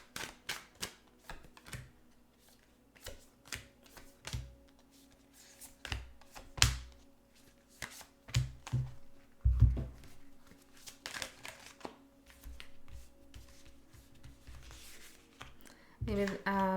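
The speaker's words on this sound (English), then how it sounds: "I'm going to pull some oracle cards as well." Oracle cards are shuffled and pulled from the deck, making quick papery flicks, snaps and crinkles in irregular bursts close by, while a person talks throughout.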